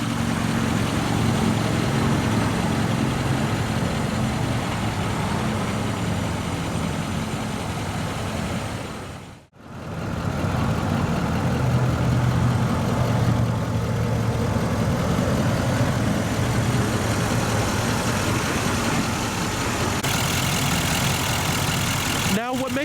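A deep 5-liter Cummins turbo diesel V8 in a 2016 Nissan Titan XD pickup idles steadily with a low, throaty rumble, briefly cut out midway before resuming, loud and close.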